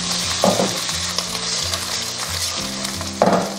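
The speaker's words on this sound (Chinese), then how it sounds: "把它煎到表皮微焦" Yellow croaker fish bones and head searing in a hot oiled pan over medium heat, a loud continuous sizzle with a low steady hum beneath and two sharper bursts of spattering, close up.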